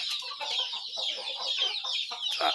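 Pure desi country chickens and a rooster on a village poultry farm cluck and squawk continuously in an overlapping, busy chorus close by.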